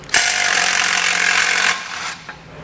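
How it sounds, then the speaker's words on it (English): A power tool with a 15mm socket spins a nut off a bracket on a 2020 Jeep Wrangler. It gives one loud, steady whirring burst of about a second and a half, then slows to a stop and a brief knock follows. "we only need to take off this nut right here. We're going to use our 15mm socket."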